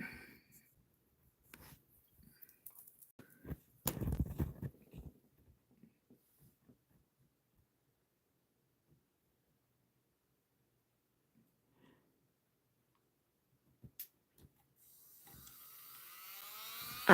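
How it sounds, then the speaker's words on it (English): Acrylic nails being filed off by hand, heard as scattered short scraping strokes with a dense burst of rasping, then long quiet stretches before a brief rising scrape near the end; close and fairly faint, with no talk. "I'm going to continue filing"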